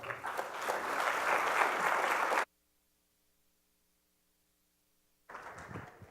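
Audience applause at a healthcare conference in the Cayman Islands, welcoming a speaker to the stage: dense, steady clapping for over two seconds, then silence, then a fresh burst of clapping near the end.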